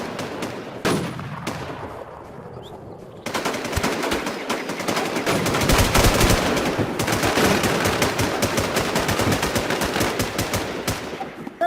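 Rapid automatic gunfire from a video game crackles in dense bursts, starting sparse and then becoming a loud, continuous barrage of overlapping shots up close.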